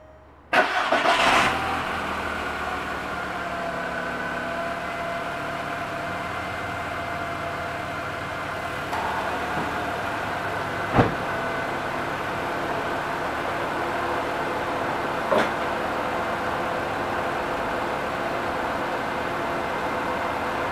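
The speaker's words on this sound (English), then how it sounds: "Alright, so that's with the car running, the AC on." A VW or Audi car engine cranks and starts, then settles into a steady idle with the air conditioning running, a constant mid-pitched hum with two brief clicks or bumps along the way.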